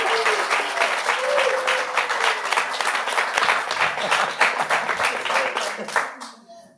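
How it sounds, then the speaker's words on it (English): Sustained audience applause with dense clapping honors riders of a 240-mile Arkansas High Country ride, steady and loud throughout before tapering off in the final second. "I wanted to start off first by just giving a round of applause to everybody that's sitting next"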